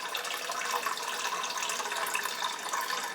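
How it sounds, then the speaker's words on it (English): Tap water filling a cooking pan for spaghetti, a steady close rushing stream with no pauses, moderately loud and heard alone without talking. "fill your pan full of water."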